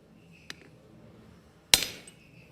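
A hammer shears steel stock over the edge of an anvil: a light tap first, then one loud, sharp metallic strike that rings out briefly.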